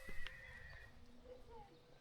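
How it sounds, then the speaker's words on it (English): A faint whinny from horses on a distant hillside, a short high cry early on over soft outdoor rumble, with quiet talk in the background. "Look at all the horses up there."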